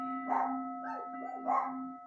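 Dogs bark a few times at a distance, two or three muffled woofs spaced apart over a steady low hum.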